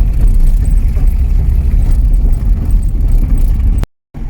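Steady, loud low rumble of a car driving along a village street, heard continuously from inside the vehicle with no talk, cutting out abruptly near the end.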